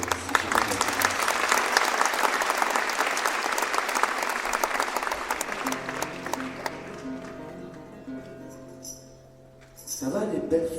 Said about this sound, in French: vous applaudir une bonne fois pour toutes parce que c'est génial.